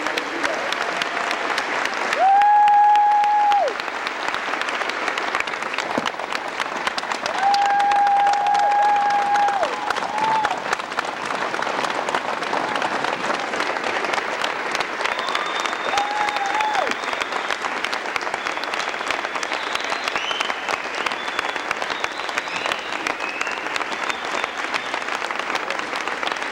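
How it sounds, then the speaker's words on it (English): A school assembly crowd applauds JV and varsity wrestlers headed to state, long steady clapping with scattered cheers and whistles, and a voice briefly audible over it near the start. "I think they deserve a round of applause"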